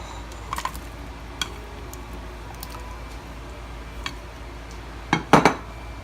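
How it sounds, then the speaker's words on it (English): Onions are dumped into a hot pot of beef stew: faint scattered clinks, then a short, loud clattering burst near the end as they tip in, with no talking. "now gonna add, hopefully without burning myself, the onions. I'm gonna dump this in."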